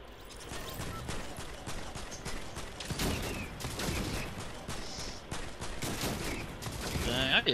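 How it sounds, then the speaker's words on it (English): Video game gunfire rattles in a dense, continuous barrage of overlapping shots, loud and busy throughout with mechanical clatter mixed in, building slightly toward the end. "Dang, I get tired of people shooting, bro."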